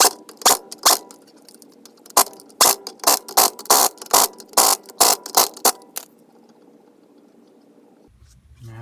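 A ratchet tightens down the wheel hub on a Mercedes 300D with a loose wheel bearing. About a dozen crisp, close clicking strokes come in a steady rhythm, then a quiet pause and a low hum.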